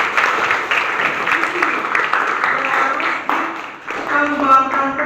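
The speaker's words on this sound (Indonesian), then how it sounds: "Tepuk tangan dong." An audience at a youth gathering applauds in a sustained burst of clapping and crowd noise, fairly loud and close, with a voice and some tonal sound breaking through near the end.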